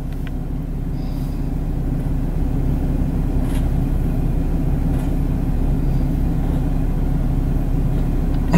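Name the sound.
car making weird noises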